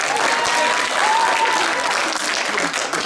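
A stand-up comedy audience in Temirtau breaks into loud, sustained applause, a dense wash of clapping that holds steady for a few seconds with some voices mixed in.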